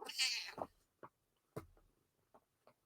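A house cat lets out a drawn-out, strained meow up close, followed by a few short clicks and taps, with no talking.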